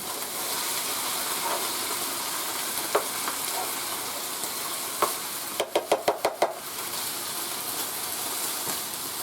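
A skillet sizzles steadily while creamy pork chops cook and the pan is deglazed, a continuous close hiss with a few scattered knocks and a quick run of five or six sharp utensil taps against the pan.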